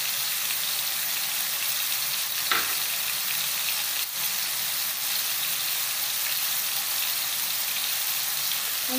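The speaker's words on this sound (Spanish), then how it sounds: "Acá ya estamos dorando la carne molida." Ground beef browns in a frying pan, giving a dense, constant sizzle and crackle at close range with faint occasional scrapes of stirring. No voices are heard over it.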